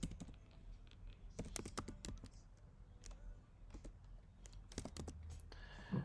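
Keyboard typing while entering a query for followers in a web builder, a quiet run of separate key clicks at an uneven pace across a faint room background.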